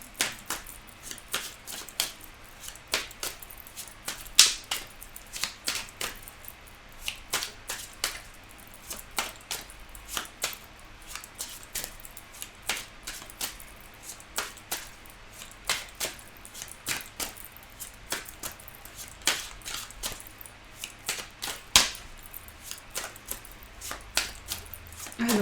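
Oracle cards being shuffled and drawn, a long run of quiet, rapid crisp flicks and snaps in irregular bursts, close and fairly faint.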